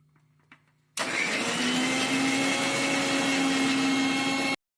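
An electric mixer grinder whirs loudly as it blends ginger, garlic and green chillies into a paste. It starts abruptly after a brief quiet lead-in, runs as a sustained steady hum and then cuts off sharply.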